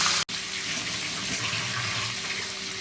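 Tiger prawns frying in hot coconut oil, a brief cut at the start followed by a steady, bright hissing sizzle that carries on evenly and close, with no voices.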